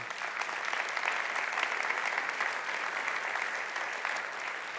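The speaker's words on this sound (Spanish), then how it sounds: "Puedes darle un fuerte aplauso a Él." Steady, dense clapping from a large church congregation, sustained at an even loudness throughout with no voices rising above it.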